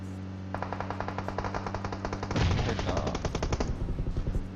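Rapid bursts of automatic gunfire rattle continuously in PUBG Mobile combat, growing louder and denser halfway through, with no voices.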